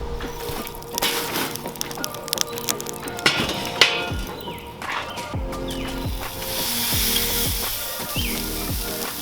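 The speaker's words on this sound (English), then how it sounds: "we got our skirt steaks down on a searing hot grill" Skirt steaks searing on a very hot charcoal grill, giving a loud, steady sizzle and crackle with sharp pops and a few clatters and scrapes of tools throughout.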